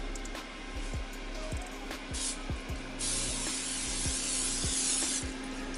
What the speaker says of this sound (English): I want to spray the pizza.